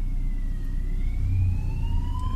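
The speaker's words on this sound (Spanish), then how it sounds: "Más sirenas." Police sirens wailing on the road near Sabadell and Castellar del Vallès after a serious accident, rising tones sweeping over a low rumble of traffic, moderately distant.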